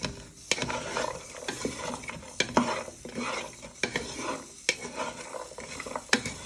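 Onions frying in a pan for a smoked haddock chowder, a soft continuous sizzle broken by several sharp stirring scrapes and clanks of the spoon against the pan, close and moderately quiet.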